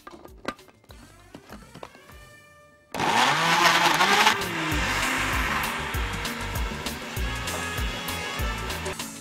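A kitchen blender purees banana with milk and cinnamon, starting abruptly after a few seconds of light tapping and running as a loud, steady whir that drops slightly in pitch as the mixture thickens.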